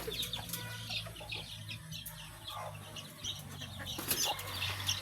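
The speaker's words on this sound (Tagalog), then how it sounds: "Ito po yung sisiw." Young chicks peep and cheep continuously while being handled and marked, a busy chorus of small birds close by over a steady low hum.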